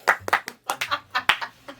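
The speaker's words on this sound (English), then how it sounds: "Clap." Sharp hand claps in a quick uneven rhythm, about eight strikes in two seconds, close and loud, with a low hum underneath, in a rap setting.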